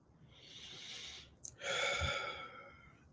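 A slow, deep breath drawn in during a calm meditation, a soft close inhale followed by a brief pause and a longer, airy breath, quiet and intimate with no talk.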